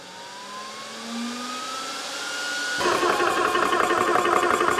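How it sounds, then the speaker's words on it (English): A cooling fan on a budget Amazon PCP air compressor starts with a rising whine, then swells into a loud, steady, broadband whir from about three seconds on. It sounds close and constant, and no one speaks. "The fan is louder than the compressor by a country mile"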